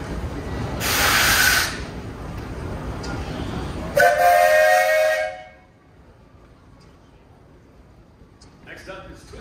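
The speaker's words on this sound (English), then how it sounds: "This is the newest steam engine here." Antique steam traction engine in a threshermen's reunion parade in Manitoba, giving two loud bursts of hissing steam, the second carrying a whistle-like tone, then falling to a quieter background.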